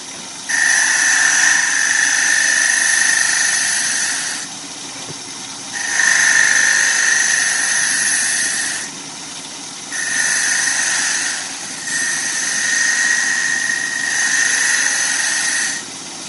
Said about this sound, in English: Then I'll increase the speed on the lathe a little bit